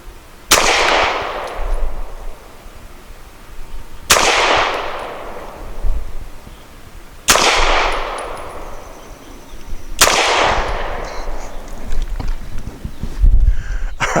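Four loud, sharp pistol shots from a Hi Point C9 loaded with Nosler 115 grain match ammunition, fired at an outdoor range at a slow, even pace about three seconds apart, each with a ringing decay.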